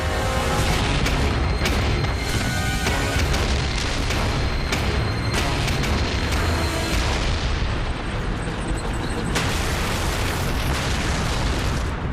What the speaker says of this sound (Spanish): Enormes explosiones.